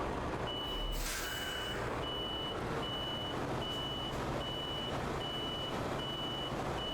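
A truck backing a trailer into a parking spot in Euro Truck Simulator 2, with a steady reversing beep repeating about once a second over a low diesel engine rumble and a short hiss of air brakes early on.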